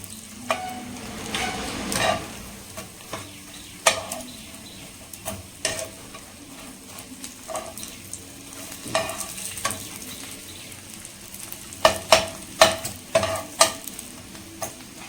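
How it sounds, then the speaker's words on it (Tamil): Pieces frying in ghee sizzle steadily in a pan while a utensil stirs and scrapes, giving repeated close clinks and taps that bunch up toward the end, with no talk. "இதெல்லாம் நெய்யில் நல்லா பொரிச்சு எடுத்தாச்சு"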